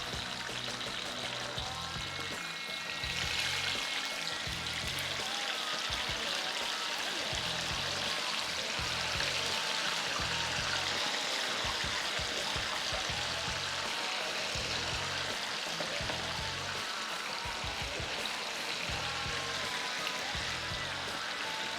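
Chicken wings for garlic Parmesan wings drop into hot oil and fry with a steady, dense bubbling sizzle that holds at an even level throughout, with no talking.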